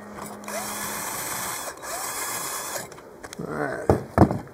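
A $200 Harbor Freight welder tacks a stainless V-band clamp to mild steel with two sustained buzzing, crackling welding runs, followed by a few sharp metallic clanks, close up.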